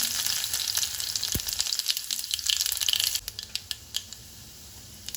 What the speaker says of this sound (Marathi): 2 चमचे तेल जे आहे ना चांगलं गरम करून घेणार आहे. मोहरी, जिरे, थोडासा लसूण,